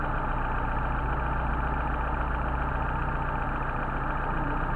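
A Mercedes 190SL engine idles steadily on Solex 44PHH carburetors, a continuous close, even rumble with no voices over it.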